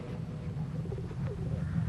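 Low, soft pigeon coos repeat steadily in a continuous murmur, close by, with no talking.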